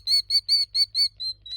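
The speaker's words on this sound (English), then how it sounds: "This mama bird is not happy that I discovered her nest." A mother killdeer near her nest on a ranch calls out in seven sharp, high, evenly spaced notes, loud and close, the last two a bit softer.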